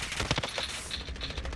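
Rapid bursts of automatic gunfire and gunshots from the Warzone Pacific video game, dense and sustained across the moment, loud and close with overlapping shots.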